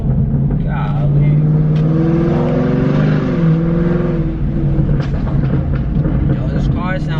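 A 2017 Camaro 2SS engine revs up and settles while driving, heard close and loud, with a few sharp exhaust crackles and pops breaking through near the end.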